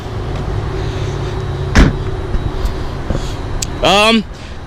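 Trunk lid of a 2016 Dodge Charger Rallye swung shut with one sharp, solid thump, followed by a few small clicks and a short chirp, over a steady idling car hum.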